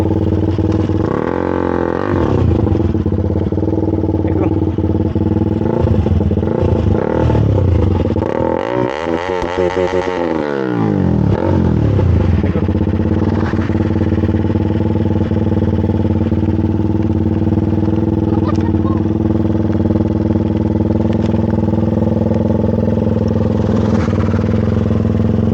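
A KTM Duke motorcycle is ridden with a loud, steady engine drone heard up close, and a rising then falling rev surge partway through.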